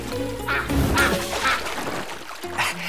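A cartoon duck quacks while paddling, several short nasal calls spaced across the moment over a busy animated-show music bed, fairly loud and close.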